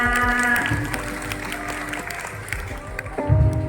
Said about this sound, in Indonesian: Beri tepuk tangan yang meriah untuk Regina.